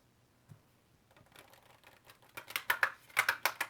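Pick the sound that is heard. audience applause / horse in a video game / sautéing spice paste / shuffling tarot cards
shuffling tarot cards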